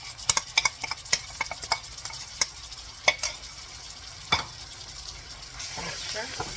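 Masala gets stirred into golden fried onions in oil for Fijian-style chicken palau, a low sizzle broken by sharp clinks and scrapes of a spoon against the pot, close and uneven, with the frying swelling toward the end.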